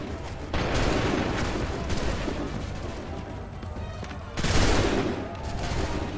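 Musket volleys fired by ranks of soldiers in the video game Assassin's Creed III, two loud crackling salvos, each a dense burst of overlapping shots rolling out into a heavy rumble.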